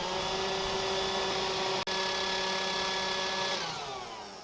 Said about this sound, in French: pour simuler la vibration quand on roule, j'ai pris un souffleur et regardez la sangle comme elle fait.